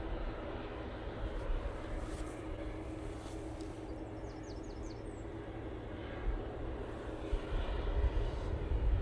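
A Ryanair airliner arriving at Manchester from Rome makes a faint, distant engine rumble that holds low and steady, then grows a little louder near the end, with a few chirps heard over it.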